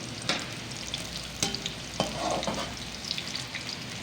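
Sliced onions and whole garam masala frying in oil in a pan for Afghani pulao, a steady soft sizzle with occasional spoon stirs and scrapes, close but quiet.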